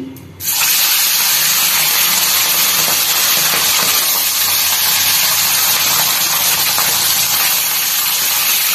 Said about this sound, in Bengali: চলো মাছটা ভেজে নিই।